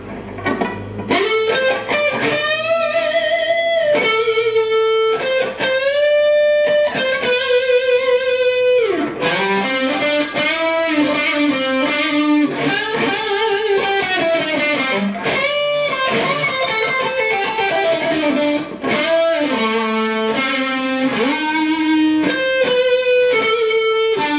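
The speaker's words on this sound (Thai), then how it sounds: "เสียงแตกที่ตำแหน่งในพิทับนะครับ" Heavily distorted electric guitar, a 2010 Gibson Les Paul Studio on the neck pickup, plays a sustained, melodic lead line with bends and held notes, loud and continuous throughout with a warm, thick tone.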